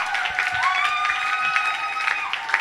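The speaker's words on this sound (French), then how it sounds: "Est-ce qu'il y a quelqu'un qui peut applaudir plus que tout le monde?" A church congregation at a Sunday worship service claps along with continuous mid-level applause, while sustained voices and tones ring out over it.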